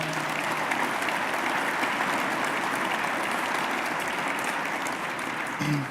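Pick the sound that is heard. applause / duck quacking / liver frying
applause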